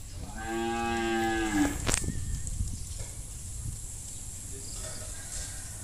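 A pregnant Sind cow lowing on a farm, one long drawn-out moo in the opening seconds, fairly close, followed by a steady background hum of insects and crickets with no talking.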